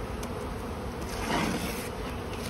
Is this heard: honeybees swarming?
yes